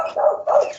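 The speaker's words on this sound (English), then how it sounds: "He's barking too much." A dog lets out two quick, loud barks close by, one straight after the other.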